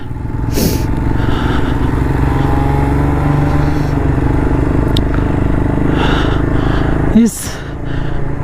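Hero Xpulse 200 motorcycle climbing a high mountain road in Ladakh, a steady loud engine drone with wind buffeting and a brief clatter near the end, with voices partly audible.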